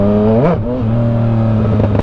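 A Yamaha MT-09 motorcycle engine hums loud and close, its pitch rising in a quick throttle blip and then settling into a steady idle drone.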